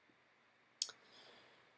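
A single sharp mouse click stands out in a quiet room, with a tiny tick just before it.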